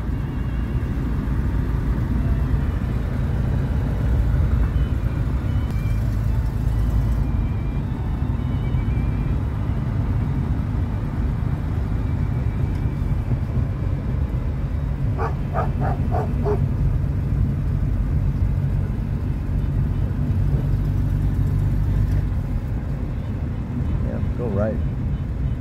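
A DeSoto car drives along with a steady low engine rumble and road noise, shifting up into a higher gear partway through, while people talk in the cabin.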